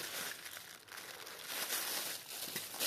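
Plastic packaging bag crinkling as it is opened slowly while unpacking a watch, continuous soft rustling and crackling close up, fairly quiet.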